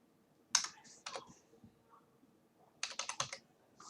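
Keys clacking on a computer keyboard while typing into a Godot project's input map, a single press, then a couple more, then a quick burst of four or five strokes, close and fairly quiet.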